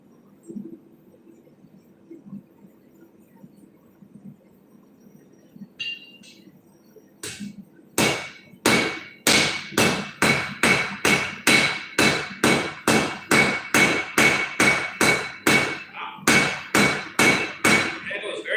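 Hammer striking a red-hot railroad spike on an anvil, a fast steady series of loud ringing metallic blows after a few quiet seconds of low background hum.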